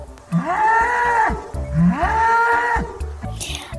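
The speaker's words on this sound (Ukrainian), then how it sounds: "Бик також говорить му" Two long, loud cow moos in a row, deep and drawn out, with a brief pause between them and faint background noise.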